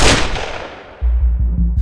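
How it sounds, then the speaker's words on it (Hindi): A blast followed by heavy gunfire amid street fighting in Lyari, Karachi: a loud broad burst that decays, then dense low repeated booms and shots close by, with no talk. "इस वक्त ये धमाका हुआ है और गालिबन ये या ग्रेनेड का या रॉकेट का ये फायर था और शदीद फायरिंग दोबारा शुरू हो गई।"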